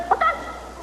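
A chicken used in a stage magic trick gives two quick clucks, a short close burst then a slightly longer squawk, with no talking over them.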